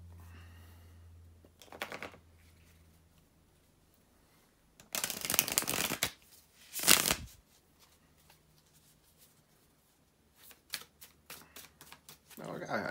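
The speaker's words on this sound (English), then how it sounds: "bear with me a couple of seconds, guys, to shuffle the tarot cards" Tarot cards are shuffled in a few short, crisp bursts separated by pauses, close up, with quiet background hum and faint handling sounds between.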